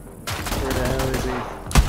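Gunfire in Borderlands 3, a quick volley of loud shots followed by a heavy boom near the end, with a voice briefly heard beneath.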